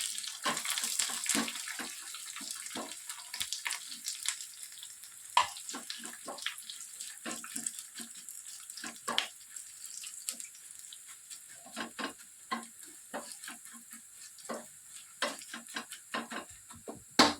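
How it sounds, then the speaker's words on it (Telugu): Curry leaves and dried chillies fry in hot oil, spitting and crackling in sharp, irregular pops against a quiet background, with no talking. "బాగా కరివేపాకు ఫ్రై అయిన తర్వాత 3 నుంచి 4 ఎండుమిర్చిని వేస్తున్నాను."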